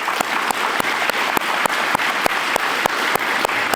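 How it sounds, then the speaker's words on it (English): An audience applauds in a community gathering hall, a dense, steady wash of many hands clapping close by, with a few louder individual claps standing out at regular intervals and no talking. "I just want to give them a round of applause"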